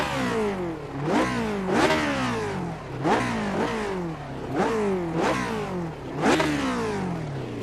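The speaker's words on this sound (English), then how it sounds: "Why don't we quiet down for a second and just take a listen to the engine." A Lotus 49 racing engine in the iRacing sim at VIR revs up and down repeatedly in quick, sharp rhythmic bursts as gears are worked, loud and continuous with no talk.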